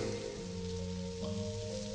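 Cartoon rain sound effect from a 1984 Rainbow Brite animated episode, a steady close hiss of falling rain with a continuous low hum and tonal bands beneath, no voices.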